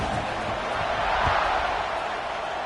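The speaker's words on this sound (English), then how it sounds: "this crowd is buzzing after that last score" A football stadium crowd buzzes in a broad, steady roar after a touchdown at an Oregon vs Maryland game, distant and even throughout with no distinct cheers standing out.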